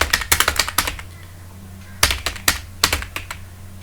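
Computer keyboard typing while filling in an online UP scholarship application form, two quick bursts of clustered keystrokes separated by a short pause, close and fairly loud with a low steady hum underneath.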